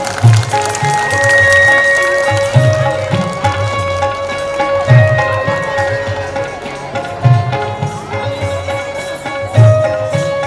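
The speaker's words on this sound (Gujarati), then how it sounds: "એકવાર આ બધી ગોપીઓને જોરદાર તાળીઓથી ઉડાવી દેવાનું" Bursts of audience clapping at a Shrimad Bhagavat Katha gathering rise and fade in waves, over a background of music and voices.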